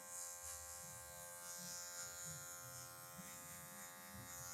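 An electric hair clipper with a zero guard buzzes steadily while cutting hair during a taper fade. The hum is close but faint and continuous, with no talking.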